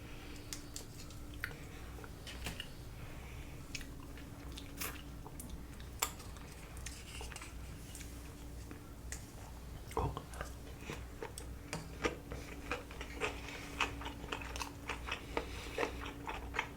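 Close, soft chewing and crunching of sushi: salmon and popcorn shrimp rolls, masago nigiri and seaweed salad, eaten with sriracha, with wet squishy bites repeating irregularly over faint background noise.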